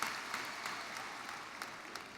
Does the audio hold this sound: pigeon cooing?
no